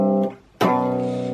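Two short musical phrases, each sounding a perfect fourth interval on a sustained harmonic instrument, separated by a brief dip, clear and close with no voices.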